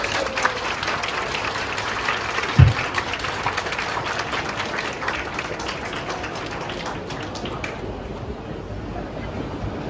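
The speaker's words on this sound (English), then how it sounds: "how about a round of applause, please?" An audience applauds at an outdoor anniversary celebration at a wetland reserve, a dense steady clapping that swells briefly and then thins out toward the end.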